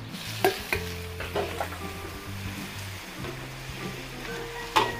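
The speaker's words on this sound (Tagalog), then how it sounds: "Sangkotsahin po muna natin yung manok." Chicken pieces sear in oil with garlic and onion in a pan for pancit, a continuous sizzle punctuated by scraping stirs, a louder clack near the end, with a steady low hum beneath.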